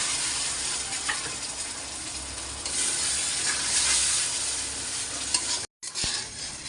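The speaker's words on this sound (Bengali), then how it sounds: "মশলাটা সুন্দর করে কষাই নিলাম, তেলটা উপরে এসে পড়ছে।" Continuous sizzling of a spice paste frying in hot oil for a taki fish curry with red amaranth, with stirring scrapes and a brief cutout near the end; no speech.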